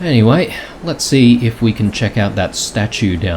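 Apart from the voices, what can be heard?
No everyday noise stands out behind the speech.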